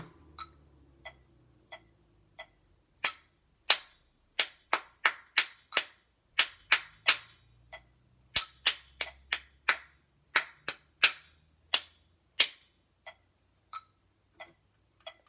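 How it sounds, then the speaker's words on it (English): Sharp hand claps in a steady beat, about two dozen crisp claps spread through a flute lesson, some uneven in spacing and loudness, close and dry with faint background noise and no talking. "So when we clap,"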